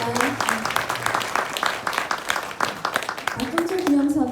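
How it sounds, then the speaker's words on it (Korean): Applause at a memorial ceremony marking the 39th anniversary of Park Jong-chul's death, a steady patter of many hands clapping throughout while a voice speaks over it. "선생님들에게 뜨거운 감사와 진실 박수 보내드립니다."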